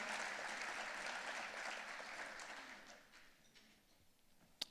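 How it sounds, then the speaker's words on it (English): Audience applause at an education foundation's visionary dinner, a dense, steady clapping from many people that fades out toward the end, followed by one sharp, isolated sound. "Let's give him another round of applause."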